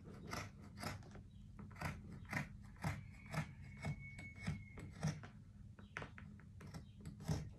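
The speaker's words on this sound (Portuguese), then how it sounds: "Então, vou cortar a ribana aqui." Scissors snipping through rib knit fabric for a sewing project, a steady series of close crisp cuts repeating about twice a second, with no talking.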